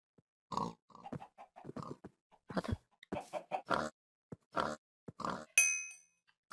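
A Minecraft pig gives a string of short, clipped oinks and grunts, close and distinct with gaps between them, ending in a bright metallic ding.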